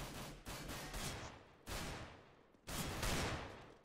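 Gunfire in the shooter CS:GO, including Desert Eagle shots: three or four sharp, loud bursts arrive at uneven intervals, each decaying into a noisy tail, with no talk over them.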